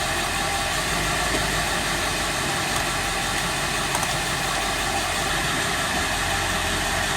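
A Ford F-250 engine with a 4R100 automatic transmission runs steadily at idle while gears are selected, a loud, even, noisy drone that barely changes throughout, with no one speaking.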